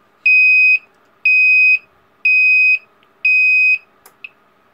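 A remote-controlled delay timer relay drives a buzzer that gives four evenly spaced, loud, steady beeps, each about half a second long, followed by a couple of faint clicks.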